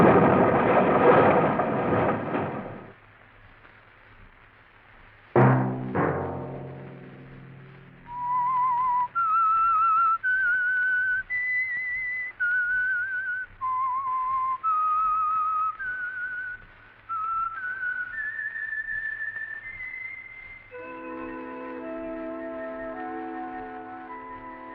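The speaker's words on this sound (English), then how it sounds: "Let that whistle be your signal for the Signal Oil program, The Whistler" A lone whistler carries the eerie, wandering melody of the old radio drama The Whistler, clear and close, after a loud crash and a resonant chord, with an orchestral chord entering near the end.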